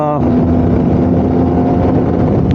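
A Kawasaki Z900RS motorcycle with split dual exhausts holds a loud, steady idle or low cruise, its deep rumbling hum close and continuous.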